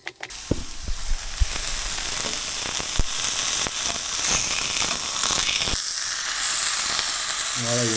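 An onion sizzles in a hot pan for a quick post-workout meal, a steady bright hiss with crackling pops and a few sharp clicks. The hiss drops briefly partway through.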